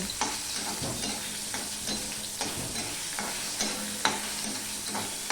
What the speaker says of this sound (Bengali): এবার আমি এই শুটকি মাছগুলো যে ম্যারিনেট করে রেখেছিলাম সেগুলো আমি ভেজে নেব